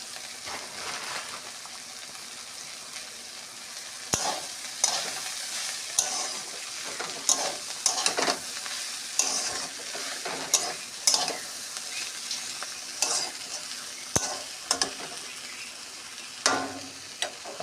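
Water spinach frying in a pan with potato and bitter gourd makes a continuous close sizzle, punctuated by repeated scraping and clattering of a spatula as the greens are stirred.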